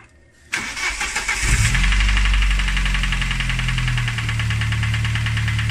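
A starter cranks briefly, then a 2-liter Saab engine catches and settles into a loud, steady idle with a busy ticking clatter, close by, after a spark plug change.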